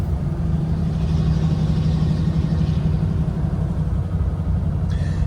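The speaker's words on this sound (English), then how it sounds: "The sound of that Ford Flathead V8 horsepower engine." A 1948 Ford Super Deluxe with its Flathead V8 runs at a steady idle, a close, continuous low rumble with a smooth even throb and no talking over it.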